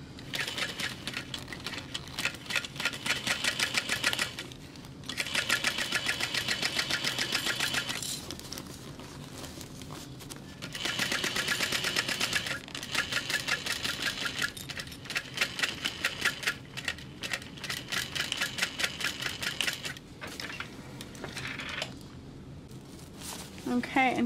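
A sewing machine stitches a large bag in bursts of rapid mechanical whirring, loud and close, with short pauses between runs.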